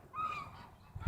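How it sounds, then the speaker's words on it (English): Geese give a single short, nasal honk at a lake, close and clear above faint background hiss. "There's lots of geese and ducks"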